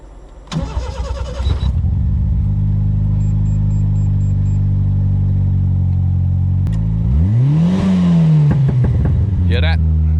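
Toyota AE70 drift car engine with anti-lag, heard from inside: a loud idle with sharp starting bursts early on, then a rising and falling rev sweep with crackling pops near the end, under brief speech.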